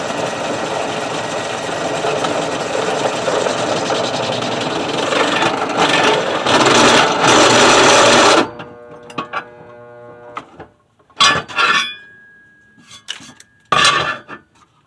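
A drill bit bores into oiled metal on a 1965 Dodge Dart shackle extension block, a steady loud grinding whir for about eight seconds, then stopping, followed by a few short clanks of metal parts.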